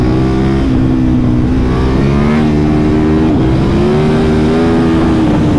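A KTM Super Duke 1290 R motorcycle accelerates hard, its loud, close engine note holding a steady, rich tone that rises and dips slightly as the revs climb, with no voices over it.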